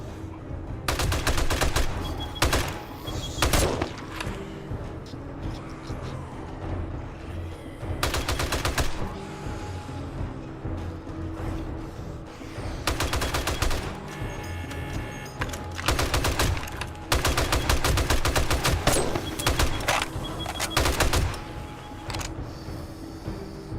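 Bursts of rapid M60 turret machine-gun fire in the game 7 Days to Die during a Day 49 Blood Moon, loud repeated volleys separated by short pauses, with clattering game effects between them.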